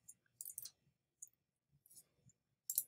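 Sparse, faint keyboard clicks while typing into an Excel spreadsheet, scattered short taps separated by near silence.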